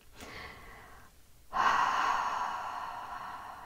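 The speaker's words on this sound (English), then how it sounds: "You take several deep, slow breaths" A person takes deep, slow breaths close by: a soft drawn-in breath, a brief pause, then a longer, louder airy exhale that fades gradually, with no talking.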